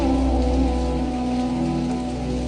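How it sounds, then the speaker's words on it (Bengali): A heavy night downpour in Jizan, Saudi Arabia, roars steadily, thick and unbroken, with a deep low hum running beneath the rain and water-filled streets. "বিশাল বৃষ্টি, অন্ধকার একবারে জিম মেরে নামছে বৃষ্টি"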